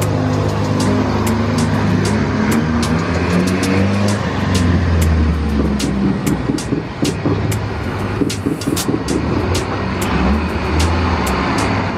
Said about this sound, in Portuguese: Olha lá, mais um busão subindo a ladeira aqui